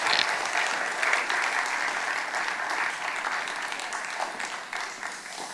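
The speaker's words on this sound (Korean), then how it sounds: "우리 박수로 한번 환영하겠습니다" A church congregation claps warmly to welcome a visiting pastor at a revival meeting, a steady, fairly loud round of applause lasting several seconds that tapers slightly toward the end.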